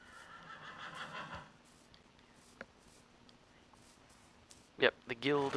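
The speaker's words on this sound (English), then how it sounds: "There's a big group of horses out here." Horses in a large group in Minecraft let out a couple of short whinnies near the end, preceded by faint background sounds and soft talk early on.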